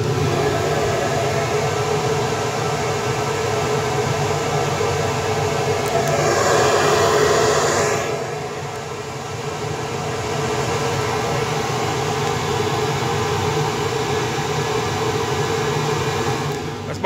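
Fox Body Mustang engine with a BBK 80mm throttle body runs steadily at a loud, constant drone, rising briefly in intensity around the middle before settling back to an even roar.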